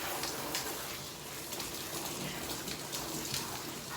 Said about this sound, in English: Let's get your neck all rinsed off really, really good